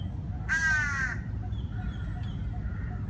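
A single harsh crow caw rings out clearly for about half a second in a forest where many scavenging crows gather, set against a steady low rumble of background noise.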